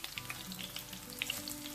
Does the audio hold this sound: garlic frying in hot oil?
yes